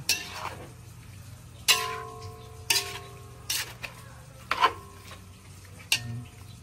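Menudo being stirred in a cooking pot, a few distinct scraping, clinking strokes of a utensil against the pot spaced over several seconds, over a low steady background hum.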